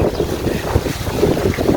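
Strong wind buffets an outdoor microphone at a windy waterside spot during Loy Krathong, giving a steady, loud rumble and hiss with gusty swells and no speech.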